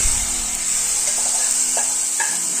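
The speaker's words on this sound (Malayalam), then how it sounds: "ഇനി എരിശയിലേക്ക് നമുക്കിത് ഒഴിച്ചു കൊടുക്കാം" Hot chilli tempering is poured into jackfruit erissery with roasted coconut and ghee, a steady loud sizzle close up with a few clinks, no talking.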